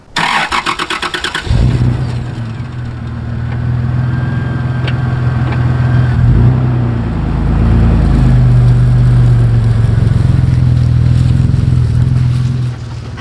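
A first-generation Toyota Tacoma in four-high on an off-road trail: after a few clicks and a rattle, the engine surges loud, then rumbles and revs unevenly for about ten seconds, with no talking.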